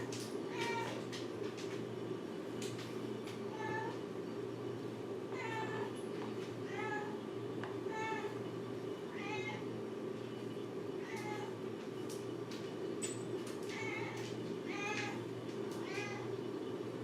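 A cat meows repeatedly, a dozen or so short rising cries at irregular intervals, moderately close over a steady low indoor hum during soap making.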